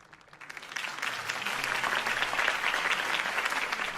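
Crowd applause in a Batman video game, following a campaign speech by Harvey Dent; a dense wash of many hands clapping swells up within the first second and holds steady and loud, fairly close.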